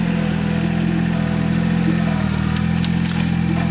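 A 25 hp tractor engine idling at moderate RPM while grappling trees, a steady, even drone with a constant low hum and light mechanical clatter, close and continuous with no talk.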